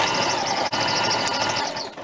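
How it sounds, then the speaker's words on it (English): A sewing machine runs a decorative scallop stitch along the edge of a fabric placemat, a steady close mechanical whir that pauses only for a brief instant partway through. "I'll take it to the sewing machine. I'm gonna use a scallop stitch, just a decorative stitch instead of a straight stitch"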